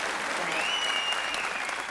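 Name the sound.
enthusiastic applause for the speaker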